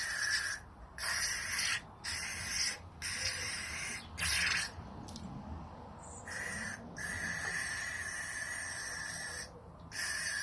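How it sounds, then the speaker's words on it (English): Brake cleaner sprays into the rear brake of a Benelli TNT 125 motorcycle in several close, hissing aerosol bursts of varying length, separated by short breaks. "So stick a bit of brake clean in there, get the worst of it out."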